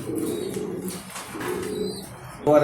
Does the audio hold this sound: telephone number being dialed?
no